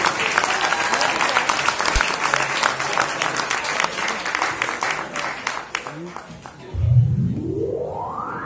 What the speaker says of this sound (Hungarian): egy nagy tapsot szeretnék kérni